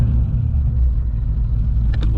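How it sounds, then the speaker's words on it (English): A car with a fuel problem idles steadily, a loud, close, low engine rumble with a faint voice at the very end. "I mean, it's idling okay."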